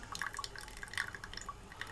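Coffee trickles from a punctured Nespresso capsule, a faint run of small, quick drips and tinkles into a cup with a soft watery hiss underneath, close up and with no talking.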